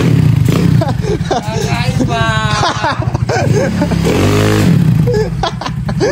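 A motorcycle with an aftermarket exhaust pipe revs during a soundcheck, a steady engine drone sitting beneath loud, excited voices of people talking over it.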